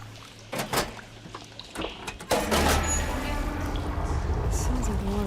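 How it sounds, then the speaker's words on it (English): In a video game, a few clunks and knocks from water machinery give way to a steady, close rush of water flowing through pipes that continues to the end, with a voice faintly present. "Sounds like the water's switched."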